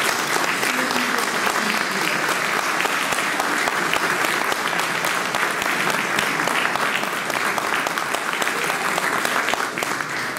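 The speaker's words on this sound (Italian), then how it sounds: "E qui dovete fare partire l'applauso." Sustained audience applause at a Giro d'Italia stage presentation event for a stage start in Mileto, dense steady clapping filling the room for the full length.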